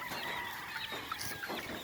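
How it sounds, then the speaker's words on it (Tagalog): A flock of ducks gathers at feeding time, their busy clucking and chattering calls overlapping continuously at moderate distance, fairly faint with no talk. "Parang bibi, parang itik, ang dami ah."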